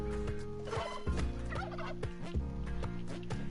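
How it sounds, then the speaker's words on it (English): Spelunky 2 turkeys gobbling in rapid warbling bursts, loud and repeated across the clip over a steady game soundtrack. "I don't think we're gonna get these turkeys."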